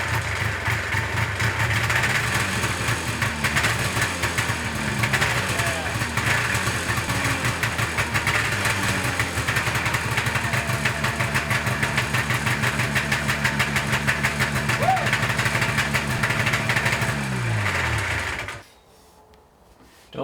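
A 1979 Arctic Cat Jag 3000 snowmobile engine, started with a mostly broken choke lever, runs with a loud, rapid two-stroke chatter close by, holding steady before dying abruptly near the end.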